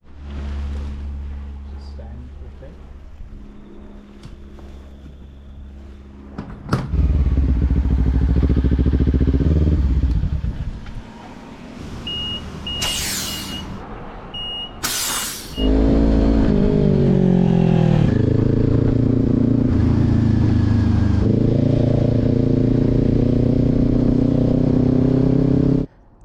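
Kawasaki 650R motorbike being ridden on the road, its engine droning loud and steady with shifts in pitch as it accelerates, and a quieter idle-like stretch partway through.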